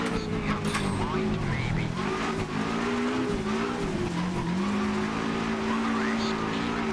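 Rally car sliding sideways through a drift in the Richard Burns Rally sim, engine droning steadily with sustained tire squeal and skidding throughout, loud and close, with a voice talking over it.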